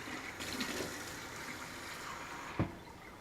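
Water for gravy poured in a home kitchen, a soft steady trickle into a container that ends with a brief splashy clunk near the finish.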